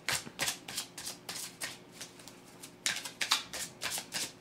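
Tarot cards being shuffled by hand, a rapid series of crisp, riffling bursts that repeat in short rhythmic handfuls. The shuffling is close and moderately loud, with no voices over it.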